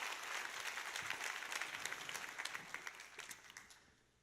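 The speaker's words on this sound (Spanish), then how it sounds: "Dale más fuerte ese aplauso al Señor" Church congregation applauding at a service, a dense wash of many hands clapping that fades gradually toward the end, with a few louder individual claps standing out near the close.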